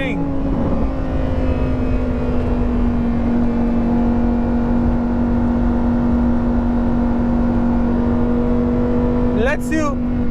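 A Lamborghini Huracan STO on Sepang International Circuit holds a loud, steady engine drone throughout and climbs sharply in pitch near the end as it revs, heard close and constant.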